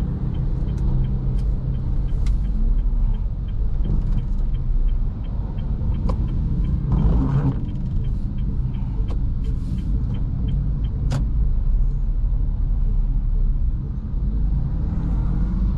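Manual car crawling through a long traffic jam, with a steady low engine and road rumble from inside the cabin and occasional faint clicks and knocks, no talking.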